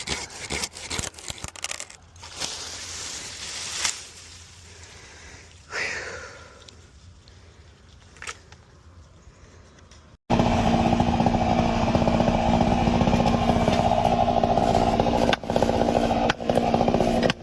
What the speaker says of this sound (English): The chainsaw roars, its sharp blade slicing through the timber with the ease of a hot knife through butter.